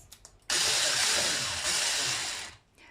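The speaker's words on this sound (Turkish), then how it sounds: "Şimdi ikisini birlikte önce çırpacağız." An electric mixer whipping cream and labneh for a cheesecake whirs on abruptly, runs as a steady, loud, close hum for about two seconds, then cuts off, with no talking over it.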